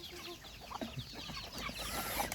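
Chickens cluck and murmur in short bursts at feeding time over a busy farmyard background, with a few sharper calls rising toward the end.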